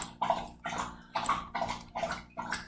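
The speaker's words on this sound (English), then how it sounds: "Excuse my dog as he drinks his water." A small, quiet dog laps water from a bowl close by, with quick wet slurps in a steady rhythm of about two laps per second and no voices over them.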